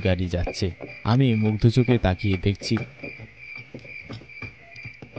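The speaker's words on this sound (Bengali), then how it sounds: "ঝিঝি পোকাদের ডাক শুনতে পেলাম বহু বছর পর" Crickets chirp in an animated village at night, a thin, steady high trill running beneath a narrator's voice and continuing faintly once the talking stops.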